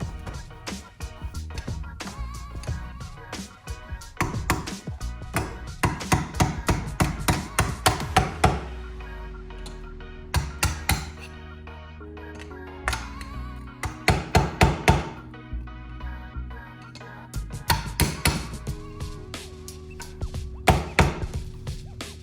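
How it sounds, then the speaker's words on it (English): Repeated sharp hammer blows on metal as parts are driven into a BMW E46 differential during a limited-slip conversion, coming in irregular bursts of several strikes with brief pauses between, close and loud. "Hammer them into place, and then you should just hear it snap into place."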